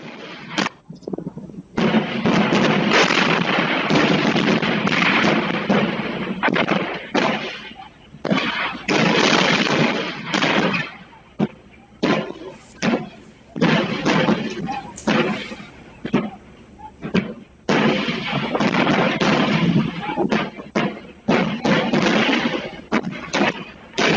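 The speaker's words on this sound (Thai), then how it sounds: "คือเสียงระเบิดเนี่ยดังอย่างต่อเนื่องเลย" Explosions go off continuously near the Thai–Cambodian border, a dense series of loud booming blasts with only brief gaps between them.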